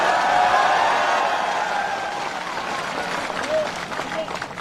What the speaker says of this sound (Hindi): इस पर ताली मारिए।